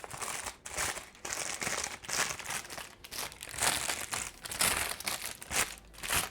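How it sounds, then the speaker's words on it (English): Parchment paper crumpled close up, a continuous crinkling and crackling with uneven bursts as it is squeezed. "you just crumple it up"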